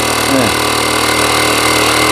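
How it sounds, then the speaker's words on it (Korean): Cordless dual-motor camping air pump for air tents running on its low-speed motor, a steady loud mechanical hum with a short whine near the start, alone without talk. "이게 지금 저속 모터가 들어가는 겁니다"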